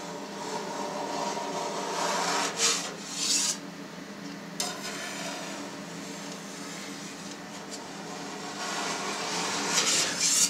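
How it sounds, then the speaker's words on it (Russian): A knife draws lengthwise strokes through soft cheese curd for Caerphilly, a semi-hard English cheese, in a pot, making a steady wet rasping and rubbing that runs throughout with a few louder scrapes, close and with no talk. "Порезали сгусток вдоль и теперь нарежем его поперек"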